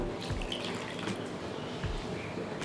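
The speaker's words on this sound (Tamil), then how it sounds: "வதங்கிட்டு இருக்கும் போதே இந்த 1 பவுலு தண்ணி சேர்த்துக்கலாம்" Water poured into melting jaggery in a cooking pan while making nendran banana paniyaram, a continuous splashing, sizzling wash close by with no talking.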